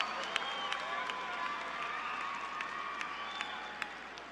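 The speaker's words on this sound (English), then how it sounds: "let's give them a round of applause" Graduates and families clap together at a 2018 university morning commencement, a steady wash of applause with scattered sharper claps running the full length at moderate distance, with no voices standing out.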